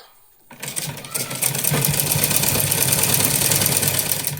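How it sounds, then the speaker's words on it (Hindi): A sewing machine runs steadily, stitching along a fold of cloth while a child's dress is sewn, starting after a brief quiet moment and holding a continuous mechanical whir to the end. "तो मैं आपको इसमें सिलाई करके दिखाती हूँ।"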